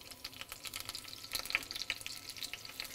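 Artichoke halves fry cut side down in a pan with garlic, herbs and olives, giving a steady crackling sizzle with dense bursts of spitting pops throughout, close and fairly loud, with no talking.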